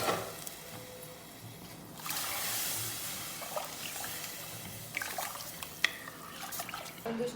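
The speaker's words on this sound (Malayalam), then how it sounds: "ഇനി ഈ വെള്ളത്തിനെ നമുക്ക് കുക്കറിലോട്ട് ഒഴിക്കാം" Soaking water from kabsa rice poured into a pressure cooker, a faint splashing trickle in bursts with dripping and a few small clinks, quiet and close.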